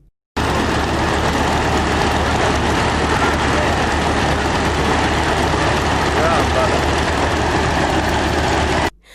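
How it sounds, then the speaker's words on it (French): A homemade propeller aircraft engine runs on the ground in Ouagadougou before takeoff, a loud, steady droning roar with a low throb that starts abruptly, holds constant and then cuts off, with a voice talking over it. "hélice battante, ronronne ici à la Patte d'Oie dans l'arrondissement 12 de Ouagadougou"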